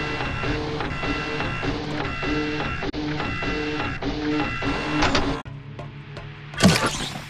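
An access card prints from a printer in the video game Fobia: St Dinfa Hotel, a steady rhythmic mechanical whirring and clicking for several seconds that stops and ends with a brief clunk.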